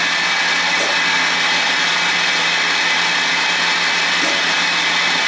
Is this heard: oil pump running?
yes